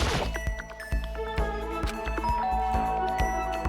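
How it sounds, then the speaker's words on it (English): A two-tone doorbell chime from the video game Danganronpa: Trigger Happy Havoc rings out clearly, followed by bright metallic pinging tones and a steady rhythmic musical backing. "Ding dong."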